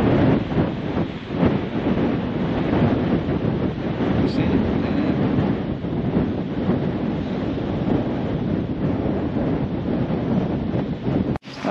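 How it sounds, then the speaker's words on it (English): Strong, gusty wind sweeping across open fields outdoors, a loud continuous roar buffeting the microphone with surging peaks and no break throughout. "So very, very, very gusty at the moment."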